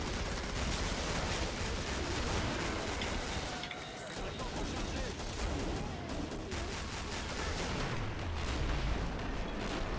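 Rapid weapon fire in the zombie shooter Killing Floor on a Christmas event map, loud dense bursts of repeated shots running almost continuously, with a brief dip in the middle and a voice talking over it.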